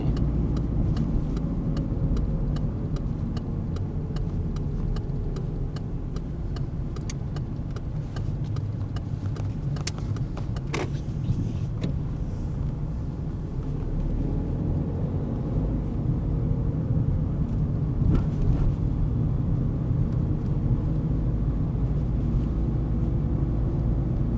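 A car driven by a driving-lesson learner rolls along with a steady low engine and road rumble, heard from inside the cabin, with a few faint clicks and knocks and no clear change as it slows.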